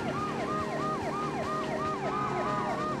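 Ambulance siren in the video game Driver 2, a loud, steady wailing up-and-down tone repeating rapidly over engine and road noise, with no talk.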